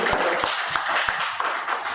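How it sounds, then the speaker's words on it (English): Audience applause at a university library seminar, a dense, continuous patter of many hands clapping at steady volume throughout, with a few sharper individual claps standing out. "Please, a round of applause for her."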